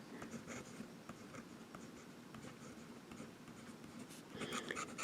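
A Jinhao 750 fountain pen scratches across paper in quiet, close strokes with small tapping nib contacts, steady for several seconds and slightly louder near the end, with no voices.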